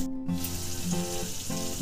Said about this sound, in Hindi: अभी मैं इसका तड़का लगा रही हूँ